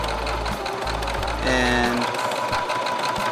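A sewing machine runs in a loud, steady mechanical whir while tacking a nameplate onto a football jersey, close up, with a brief spoken word over it.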